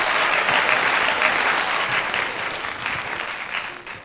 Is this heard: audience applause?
yes